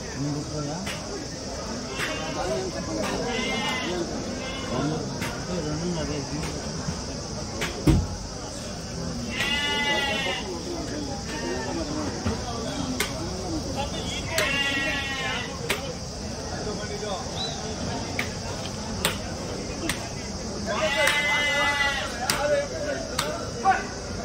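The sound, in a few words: rams bleating at a livestock market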